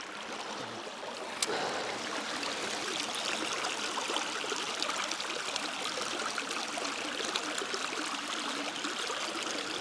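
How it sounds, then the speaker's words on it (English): Water runs steadily in a constant, even rushing flow, heard alone without voices, with one brief click near the start. "Shot of some running water for you."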